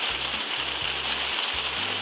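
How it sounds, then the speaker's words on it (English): Rain falls around a parked motorhome as a constant dense, bright hiss. A low rhythmic rumble pulses beneath it, and no one speaks. "Oh, the rain."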